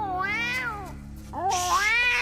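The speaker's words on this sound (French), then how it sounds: "Chut, le chat!" A cat meows twice in quick succession, two drawn-out, clear, close cries with a short gap between them, alone with no talk.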